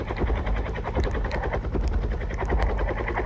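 Steady thudding helicopter rotor noise with a deep, rapid chop, continuous and fairly loud throughout.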